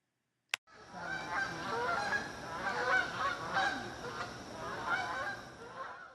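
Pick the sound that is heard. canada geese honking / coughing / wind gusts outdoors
canada geese honking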